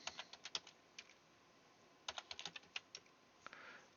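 Quiet, close computer keyboard typing in uneven clusters of clicks, pausing briefly, then another quick burst followed by a soft rustle at the end.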